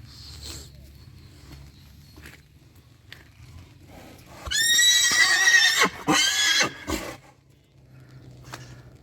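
A Percheron stallion lets out a loud, shaky neigh midway through, preceded and followed by quieter shuffling and soft background sounds.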